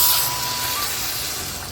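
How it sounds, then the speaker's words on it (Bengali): Water hits frying vegetables in a hot pan, a loud spraying hiss that bursts up at once and slowly eases off, close by and without any talk. "ঠিক আছে, এখন দিয়ে দিব জল।"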